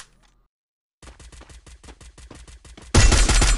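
Rapid automatic gunfire from Garena Free Fire rattles out in an even burst of close shots after a moment of silence, then gives way to a louder, dense blast of game sound.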